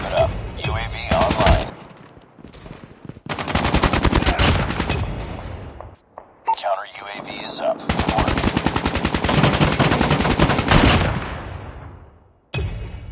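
Rapid automatic gunfire from a weapon in a competitive shooter game, loud sustained bursts with short pauses between them, the last burst trailing off into a brief tail.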